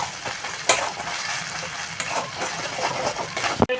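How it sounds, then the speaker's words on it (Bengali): Spices with turmeric and salt sizzle in hot oil while a spoon stirs them, a steady frying hiss with a few sharp scrapes and clinks against the pan, no voices. "ভালো করে মশলাটা কষে নেব"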